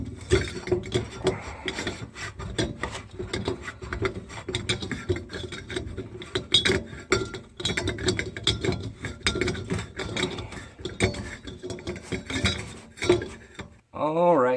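Metal scraping, rasping and clinking of a sink basket nut being worked loose beneath a kitchen sink during a garbage disposal install, steady busy rubbing and tapping close by throughout.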